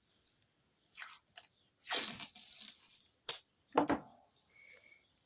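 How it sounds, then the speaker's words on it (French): A small strip of adhesive tape is pulled off a roll and torn during paper crafting on a 20x20 album, giving several close, brief ripping bursts with short pauses between them. "On va mettre un petit bout de scotch comme d'habitude."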